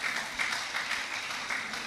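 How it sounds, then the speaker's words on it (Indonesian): Applause from a church congregation during an evening worship service, steady dense clapping at moderate distance, fairly quiet, with no speech over it. "Tepuk tangan dulu lah."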